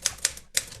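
Typewriter keys struck three times, sharp close clacks in an uneven rhythm with a brief silent gap before the last strike.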